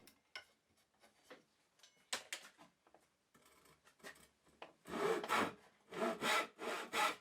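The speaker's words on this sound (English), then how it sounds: "I use a tenon saw to cut through the piece of wood" Rhythmic back-and-forth strokes of a tenon saw cutting through wood, growing louder and steadier toward the end after some lighter scraping and tapping.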